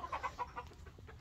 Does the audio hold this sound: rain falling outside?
no